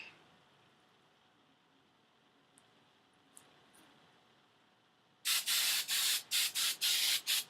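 After a long quiet stretch, a hairspray can hisses out several short, loud spray bursts in quick succession, close to the microphone.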